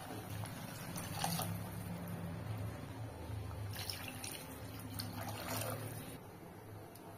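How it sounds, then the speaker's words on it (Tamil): Water pours into a pot of egg biryani, two tumblers' worth, a soft, low splashing and trickle heard faintly up close, with a few brief louder spills. "இப்ப இது கூட நான் 2 டம்ளர் தண்ணி சேர்த்துக்கிறேன்."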